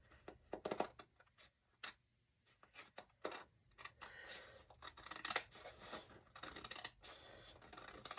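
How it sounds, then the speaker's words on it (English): Scissors trimming scrapbook paper, a series of quick, close snipping and crisp paper-cutting sounds in an irregular rhythm, quiet and with no talking. "I'm just going to take my scissors"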